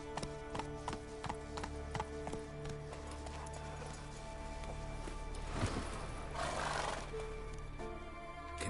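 Hoofbeats of a horse galloping in The Witcher 3 beat out a steady rhythm at moderate volume, with a brief wind-like rush and some game ambience underneath.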